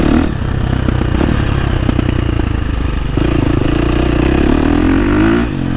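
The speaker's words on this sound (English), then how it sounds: "Just I put it in second and just barely roll the throttle on. It just pulls so nice." A KTM 350 four-stroke dirt bike pulls in second gear on a gently rolled throttle, its engine note loud, close and continuous, rising steadily in pitch with mechanical clatter throughout before dropping off at the end.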